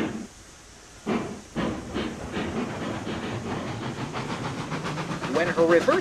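Betsy the Porter, a small coal-fired steam locomotive, starting up on the coal station track: a quiet second, then rhythmic chuffing bursts with hissing steam that quicken and build toward the end, talk mixed in.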